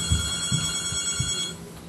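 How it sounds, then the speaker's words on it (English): A telephone rings with a steady, bright electronic tone, with soft thuds pulsing underneath over just under two seconds. "Oh, gotta get the phone."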